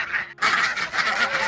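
Free-ranging farm geese honk repeatedly in a busy, overlapping chorus, close by and fairly loud, on a spring farm walk.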